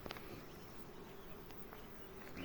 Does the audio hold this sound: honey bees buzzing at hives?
yes